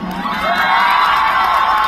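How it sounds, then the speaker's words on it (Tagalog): A live studio audience cheers and shouts loudly, a dense sustained roar of voices with whoops, close and continuous. "magpalakpakan po na may kasamang sigawan na nasabing maganda po si Super Tekla"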